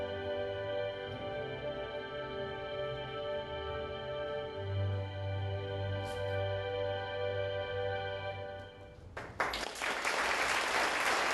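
An audience applauds after a film screening, the clapping rising suddenly toward the end into a dense burst over a low background hum.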